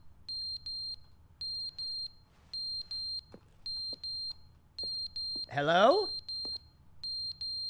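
Fire alarm in a walking video game, sounding as repeated high electronic beeps in regular pairs of bursts throughout, with a brief voice speaking partway through.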